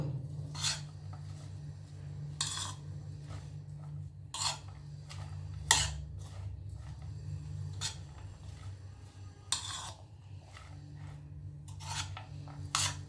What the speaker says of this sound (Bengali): এখন সবগুলো ভালো করে ম্যাগির সাথে মিশিয়ে নেব